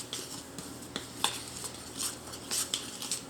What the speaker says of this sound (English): We're supposed to stir that together.